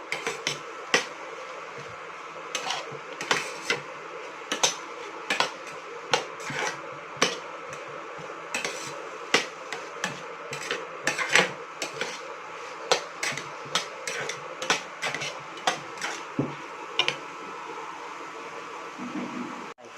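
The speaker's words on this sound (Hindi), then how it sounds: "तो मैं इसे अच्छी तरह से मिक्स कर देती हूँ।" A spoon stirs and scrapes pav bhaji mixture in a pan, making a steady run of close metallic taps and clinks against a faint hiss.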